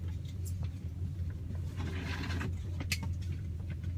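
A 1971 Sweet car out on a relaxed drive, its steady low engine hum and road rumble continuous throughout, with a few faint clicks and chirps above it and no talking.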